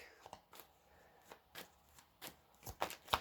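A deck of tarot cards is shuffled close by, giving a string of quick riffling and slapping bursts, with a sharper flurry of card snaps near the end and a faint voice in the background.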